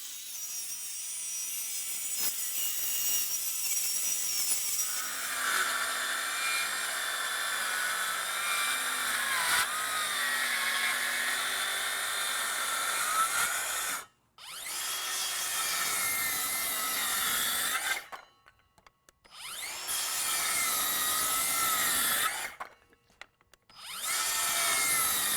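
A track saw cuts through a wooden 2x4, a loud close whining buzz of the blade biting into the lumber, broken by three short pauses as the cut stops and resumes.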